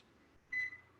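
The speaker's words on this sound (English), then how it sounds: "So let's all set our timer for 10 minutes." A kitchen timer gives a short electronic beep, a brief high tone that sounds once clearly and starts again at the end, faint and close in a quiet room.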